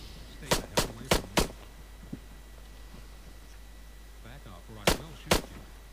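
Shots from a 9mm pistol in a video game are fired through a wall: a quick run of four sharp reports, a lone faint pop, then two more shots after a pause, over quiet background hum.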